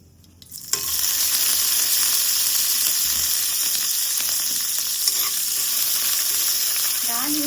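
Green chillies hit hot oil in a pan for sweet pumpkin palya, setting off a sudden loud, continuous sizzle and crackle that holds steady close up after a brief quiet start, with no speech.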